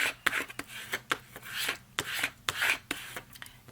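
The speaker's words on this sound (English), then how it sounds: "let me rub that down really good. I want to make sure it sticks." A paper tag rubbed down firmly by hand so it sticks, giving a series of close, rhythmic scraping rubs with short pauses between strokes.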